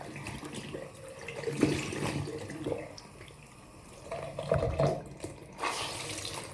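Hot water runs from a bathroom tap onto a face washer, splashing and trickling with changes as the cloth moves under the stream, close and fairly loud with no talk.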